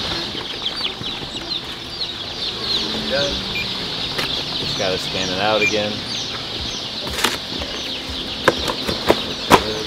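Chickens cluck and chirp in a busy McMurray hatchery, a steady chorus of poultry calls with brief wing flaps, running continuously under a man's speech nearby.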